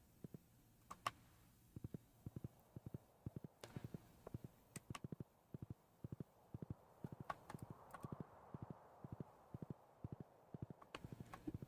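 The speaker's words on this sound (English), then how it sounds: "I love the sound of the hoofs of the horse" Horse hooves clip-clop in the video game Stardew Valley, a steady rhythmic trot of crisp, evenly spaced hoofbeats, quiet and clear with no other sound.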